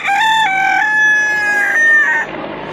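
A rooster crows in one long drawn-out call, loud and close, at a golden misri hen farm, with other chickens faintly in the background.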